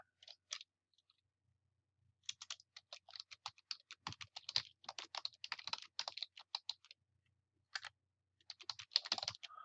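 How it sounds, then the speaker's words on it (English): Fingers typing on a computer keyboard, rapid bursts of close key clicks with short pauses between runs, no voices. "Let's see if it will let us type."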